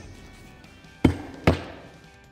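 Two sharp hammer blows drive nails through the laps of a self-adhered roof membrane into the deck, loud and close, about half a second apart, over a quiet outdoor background.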